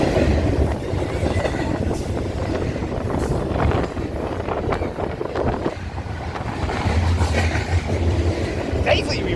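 Freight train led by Union Pacific GP60 locomotives rolls past close by, a steady heavy rumble with wind buffeting and faint rail clatter, people talking over it.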